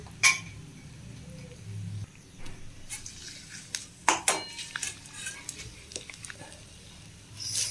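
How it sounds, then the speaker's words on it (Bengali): A spoon scrapes and clinks against a cooking pan while bay leaf, ginger paste and vegetables are stirred for a vegetarian pointed gourd dish, with scattered metallic taps and soft shuffling over a low background hum. "এটা ভালো করে এখন নাড়াচাড়া করে নিই"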